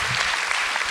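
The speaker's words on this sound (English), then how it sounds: "Me and my cinematographer, Greg Tango, round of applause." Brief burst of dense, steady audience applause at a film festival talk, loud and continuous for about a second.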